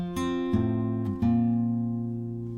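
Fingerpicked acoustic guitar plays the first bar of a song, four distinct plucked notes spaced under a second apart, each ringing into the next and fading slowly at the end, close and clear with no voices.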